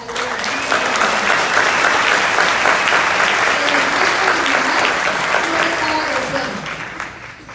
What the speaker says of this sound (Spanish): Y yo por eso les doy fuertes palmas a ustedes